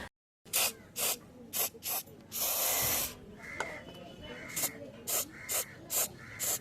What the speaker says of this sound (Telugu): ఫస్ట్ గేర్లో పెట్టి స్ప్రే చేస్తున్నాం